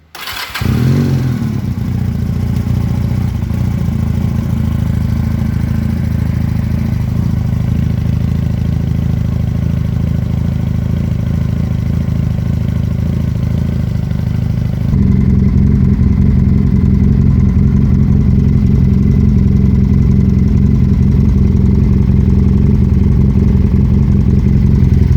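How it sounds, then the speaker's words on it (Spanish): A Leonart Pilder 125 motorcycle engine runs steadily up close, first through its stock exhaust and then, about midway, through an aftermarket exhaust with a deeper, fuller drone. No one speaks. "os voy a poner igualmente un pequeño fragmento con el escape de serie, con el sonido y también con el escape nuevo"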